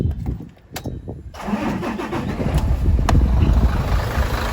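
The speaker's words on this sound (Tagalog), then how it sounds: "Ayan ang andar ng ating makina." An Isuzu Forward truck engine cranks and catches, then settles into a loud, steady rumbling idle close by.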